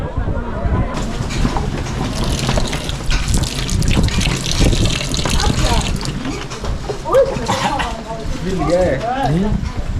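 Sulphur spring water gushing steadily from the ground at a Shotaoba festival site in Javakheti, Georgia, a loud continuous rushing flow with people talking close by over it.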